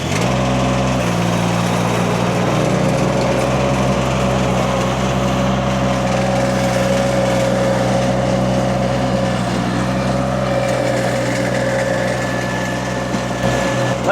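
A diesel mini skid steer engine runs steadily with a wood chipper attached, a loud continuous mechanical drone with a steady hum throughout and no speech.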